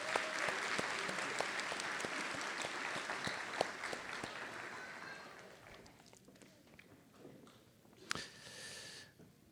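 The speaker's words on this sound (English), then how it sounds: "Let's give Dr. Ninian another round of applause, if you guys don't mind." Audience at a nursing college convocation applauds in a full, steady round that thins out toward the end, leaving a few scattered claps and a final brief flurry, moderately distant.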